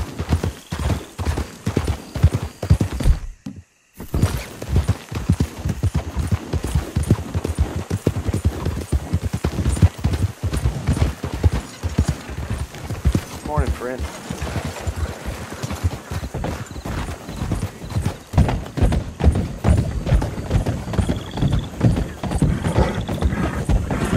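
Horse hooves clip-clop in a steady, continuous rhythm on a hard surface in the video game Red Dead Redemption 2, close and prominent, with a brief pause early on and a faint whinny midway.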